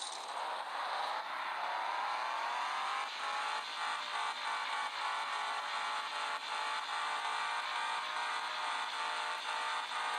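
A Chevrolet El Camino's engine revs up for a launch, a loud sustained roar that climbs in pitch and then holds at high revs, close and steady with no talking.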